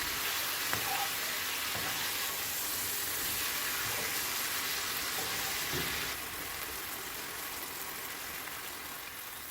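Meat fries in a pot for maqluba, giving a soft, continuous sizzling hiss at moderate distance, with a few faint clicks and taps as it cooks and the sizzle easing slightly toward the end.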